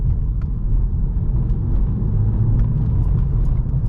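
Volkswagen Scirocco turbo engine heard from inside while driving, a steady loud low rumble of engine and road noise with faint higher whooshing flecks, no voices.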